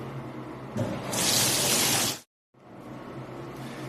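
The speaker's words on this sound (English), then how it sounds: "you can turn the bath on" Water running from a tap into a Reval Transcare bath, a steady close rushing stream that briefly gets louder and hissier, then cuts out for a moment before the flow resumes.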